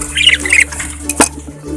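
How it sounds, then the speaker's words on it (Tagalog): Lovebird parakeets let out a few sharp, close squawks in quick succession, followed by a brief burst of noise, over a low background hum. "Ang ating mga lovebirds na parakeet"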